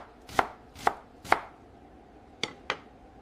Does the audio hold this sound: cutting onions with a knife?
yes